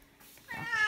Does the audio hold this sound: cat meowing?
yes